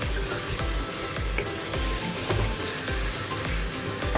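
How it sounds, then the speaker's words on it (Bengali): Taro leaves (kochu shaak) are stirred with spices in a hot pan, a loud steady sizzle punctuated by regular scraping strokes of a spatula against the pan. "এবার আমি এটাকে ভালোভাবে এই মশলার সাথে কচুর শাকগুলোকে ভালোভাবে মিশিয়ে নেব"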